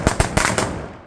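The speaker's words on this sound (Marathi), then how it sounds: "तर बाळाच्या स्वागतासाठी छोटेसे फटाके लावले" Small firecrackers pop in quick succession as a welcome for a newborn baby, a handful of sharp, close cracks over a noisy crackling background, with no talk.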